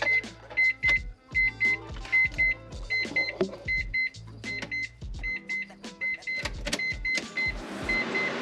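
Electric radiator fans taken from a Mazda RX-8 and fitted to a Mazda RX-7 switch on and off in short bursts, each burst bringing a steady low motor hum with clicks and beeps, ending in a louder rising whir.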